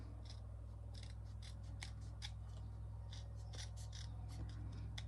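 Scissors snip around a small scrap of paper bearing a short note, a run of quick, crisp cuts at close range over a steady low hum, with no talking.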